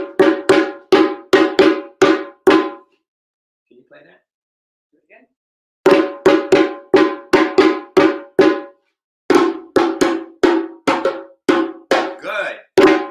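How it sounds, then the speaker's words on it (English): An African drumming signal or break rhythm, played as a run of sharp, bright, cowbell-like strikes. The pattern stops for a short pause, then is repeated twice more, with a voice speaking briefly between the phrases. "In African music, especially in African drumming, they have what we call a signal or a break."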